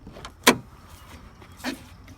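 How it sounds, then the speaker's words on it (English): A car door is worked open during a door handle replacement, giving a sharp click-clunk of the latch followed by a softer second clunk a second later, close up, with no talking. "And then we got open the door."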